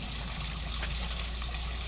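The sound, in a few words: water flowing constantly in flooded basement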